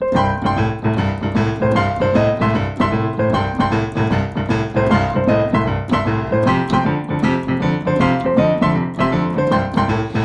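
Solo piano plays a boogie woogie pattern, a rolling rhythmic left-hand bass line under right-hand chords, steady and loud throughout with no talking.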